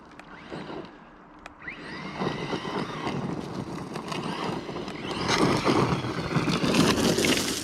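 A Redcat Landslide XTE RC truck drives along, its electric motor whining and rising in pitch with bursts of acceleration, growing louder toward the end as it passes close by.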